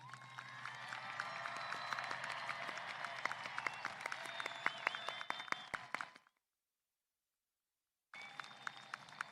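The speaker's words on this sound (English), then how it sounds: "Honor graduates, please stand and receive recognition for your academic accomplishments with a round of" A commencement crowd at a high school graduation ceremony applauds its honor graduates in a steady, dense wash of clapping that lasts about six seconds, breaks into a brief silence, then resumes.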